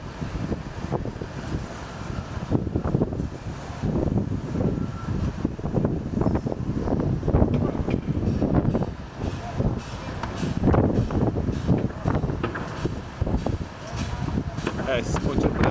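Strong wind gusts on the seafront at Santos, Brazil, roaring and buffeting a microphone in a steady, loud rush that swells and eases across the whole stretch, with no one speaking.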